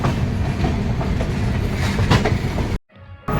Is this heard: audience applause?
no